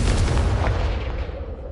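A Confringo fire-blast spell explodes in Hogwarts Legacy, a loud, dense blast with a sharp onset that rumbles on steadily for nearly two seconds, tailing off only slightly at the end.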